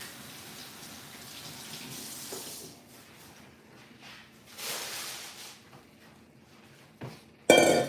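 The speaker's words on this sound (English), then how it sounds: "Let me rinse the potato off." Tap water runs steadily as a potato is rinsed under it at a kitchen sink, with splashing that swells and fades, ending in a brief clatter.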